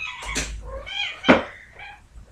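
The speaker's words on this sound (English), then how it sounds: "my cats are over there like trying to mate" Two male cats yowl at each other while trying to mate, a few drawn-out warbling cries and a sharp louder squall, fairly close with quiet pauses between.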